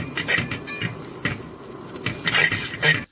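Grated coconut being stirred nonstop in a pan for chicken chammanthi, a village-style Kerala dish, with a utensil scraping and clinking against the metal in irregular, close taps and scrapes.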